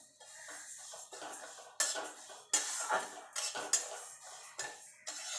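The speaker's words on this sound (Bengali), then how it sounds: "এইভাবে গ্যাসটা লো টু মিডিয়ামে রেখে কিন্তু ডালটা ভাজতে হবে" Moong dal being dry-fried in a pan over low to medium heat, heard as a run of scraping and clinking spoon strokes against the metal pan, close, irregular and fairly quiet.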